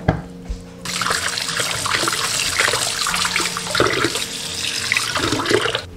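Water runs steadily from a kitchen tap over boiled pork belly as it is rinsed clean in a sink, a continuous close splashing stream after a brief clink at the start.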